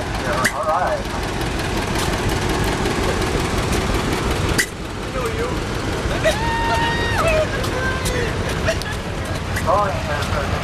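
A small antique tractor engine idles steadily through an outdoor parade in Flagstaff, Arizona, with a continuous close rumble under crowd chatter and brief whistle-like tones.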